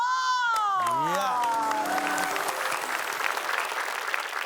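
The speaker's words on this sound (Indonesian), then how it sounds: "tepuk tangan buat Pak Deindro, luar biasa" A lively comedy stage crowd bursts into dense, loud applause mixed with cheering, following a rising whistle-like vocal glide at the start and continuing steadily to the end.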